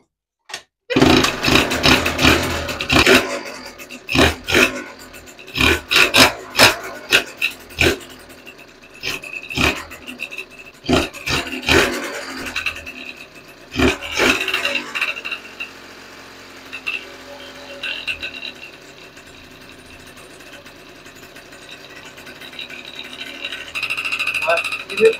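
A 70cc Stage6 engine with a PWK carburetor starts for the first time in a cellar, sputtering and popping in uneven bursts before it settles into a rough, rising revving. Someone talks over it.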